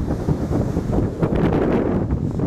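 Strong wind roars across the microphone at the seashore in Paphos, Cyprus, with big waves crashing underneath in a loud, churning, continuous wash.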